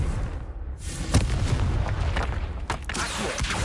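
A Confringo fire spell in Hogwarts Legacy goes off as a dense, booming blast with crackling bursts and several sharp pops layered over a rumbling game soundscape.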